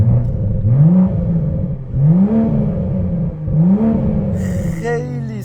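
A sports car built on a BMW Z4 chassis revs its engine loudly up close, three rising blips separated by brief drops to idle, ending with a short high whine.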